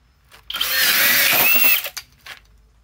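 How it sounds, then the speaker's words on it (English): A FLEX cordless drill with a 6 amp stacked lithium battery bores a hole in wood, one loud high whine that holds steady for about a second and a half, then cuts off, followed by faint clicks. "Let's drill one here."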